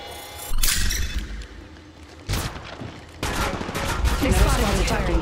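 Bursts of automatic gunfire in the shooter game Apex Legends come in several rapid volleys, loud and close, with brief gaps and game effects between them.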